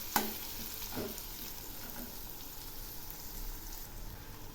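Eggplant and onion fry in a pan with turmeric, a soft continuous sizzle with a few stirring clicks near the start, moderately close and without talk.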